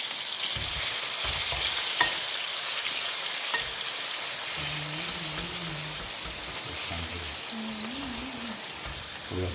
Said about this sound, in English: We are deep frying the chicken.